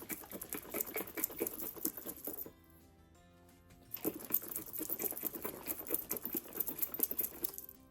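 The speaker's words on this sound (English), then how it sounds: "let me put the lid on and just shake it up" A lidded container of homemade coffee creamer shaken hard in two bursts of rapid, dense rattling and sloshing, with a short quiet pause between them.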